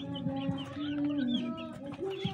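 Broiler chickens around 24 days old in a brooding pen, clucking and calling steadily at close range with overlapping voices, moderately quiet, with no talk.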